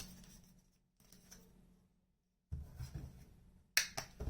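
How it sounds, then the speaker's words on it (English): Tarot cards riffled and slapped down in short bursts, close and crisp, with quiet gaps between, ending in a sharper flurry of papery flicks. "the cards are just flopping on out"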